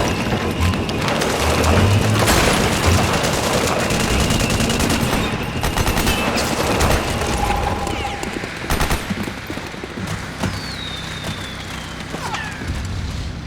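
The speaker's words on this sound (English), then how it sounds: "now I think we get our first real tank battle" A Metal Gear Solid 4 tank battle rages: rapid machine-gun fire and heavy explosive booms pile up loudly and continuously, with chaotic clatter throughout the fight.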